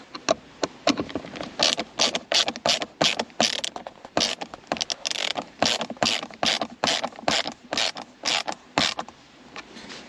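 A hand ratchet tightens the armrest bolts inside a GR Corolla, with rapid bursts of crisp clicking in quick repeated strokes, some pauses between pulls, close and loud, with no talking.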